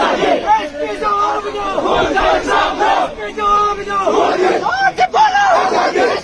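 Protesters in Indian-administered Kashmir chanting loud slogans in rhythmic bursts, a crowd shouting in unison phrase after phrase at close range.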